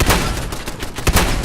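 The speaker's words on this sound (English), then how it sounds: "Oh, it's a turret." Rapid turret gunfire in Fallout 4 crackles loudly in close bursts, a dense run of sharp shots with several heavier reports near the end.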